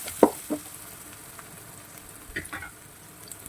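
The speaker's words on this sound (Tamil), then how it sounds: "இந்த ஆனியனோட சேர்த்து நம்ம ஃப்ரை பண்ணும்போது" Onions and spices frying in a pan for an egg and potato gravy, a soft continuous sizzle with a few sharp utensil taps near the start and scattered scrapes later, close and quiet, with no talk.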